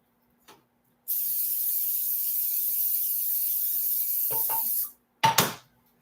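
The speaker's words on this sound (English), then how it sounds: "let me spray this pan" Cooking spray from an aerosol can hisses onto a pan in one steady, close burst lasting about four seconds, followed by a couple of short clicks and clatters from the can or pan.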